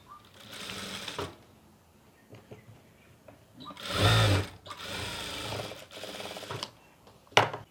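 A sewing machine stitches a skirt pocket in close, steady bursts: a short run, a pause with small clicks and handling, then a louder run, another stretch of whirring stitches and a final quick burst.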